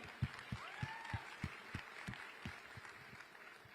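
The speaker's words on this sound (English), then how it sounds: "let's have another round of applause for the chairman of Jio, Akash Ambani." A tech conference audience applauds the chairman of a telecom company, faint and distant, a thin run of claps with regular beats about every third of a second and a brief whistle-like tone partway through.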